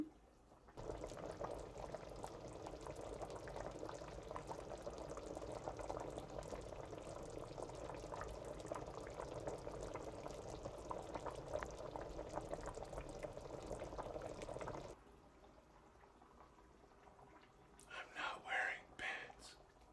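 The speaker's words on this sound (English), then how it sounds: "Warm bubbling chili." Chili bubbling and simmering in a cooking pot, a steady dense boiling texture that runs loud for about fifteen seconds before dropping away, followed by a few brief clinks near the end.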